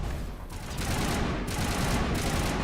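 Sustained, dense gunfire from an assault rifle in the video game Mass Effect 1, loud and continuous across the whole stretch with heavy low rumble, closer to an unbroken fusillade than clearly separated bursts.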